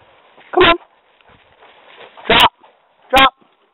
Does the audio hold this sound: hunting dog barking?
yes